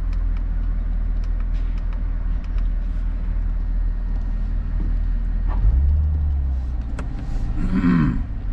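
A Corvette C8 engine idles with a deep rumble, then swells into a louder, throatier growl near the end as the sports car pulls away close by at Michelin Raceway Road Atlanta.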